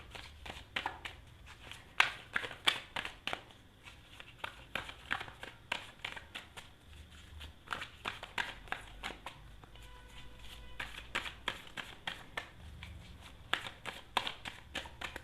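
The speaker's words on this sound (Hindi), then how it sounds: "ओके, कार्ड शफल कर लेते हैं।" Tarot cards are shuffled by hand, a quiet, irregular run of soft riffles, taps and flicks of card stock, close and without talk.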